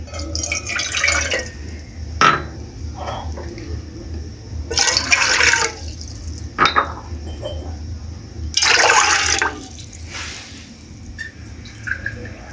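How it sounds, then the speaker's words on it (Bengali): Water is poured into a pot set on a stove in bursts, with splashing gushes separated by quieter drips and clinks. "আমি এর মধ্যে এখন পানি দিয়ে দিব।"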